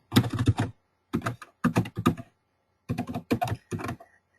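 A search being typed on a computer keyboard: several quick bursts of crisp, close key taps separated by short pauses, loud and clear with no talking over them.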